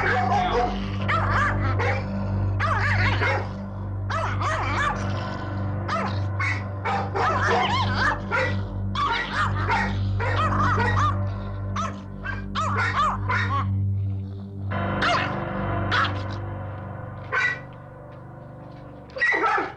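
A skittish, unsure dog barks and yips repeatedly in a steady stream of sharp, close calls, with occasional whimpers and a low steady hum underneath.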